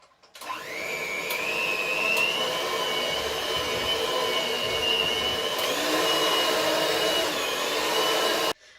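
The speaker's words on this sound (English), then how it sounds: "And now I'm gonna use my mixer again" An electric mixer kneads Finnish pulla dough after the butter goes in, a steady loud motor whine with a shifting pitch that runs unbroken for about eight seconds, with no talking over it.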